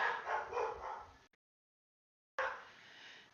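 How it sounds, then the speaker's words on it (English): Dogs bark in The Sims, a short burst of yapping that cuts out abruptly and then resumes more faintly after a silent gap. "Oh, there go the dogs. It's probably the milkman that they're barking at."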